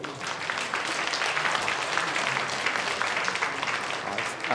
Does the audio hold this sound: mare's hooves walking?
no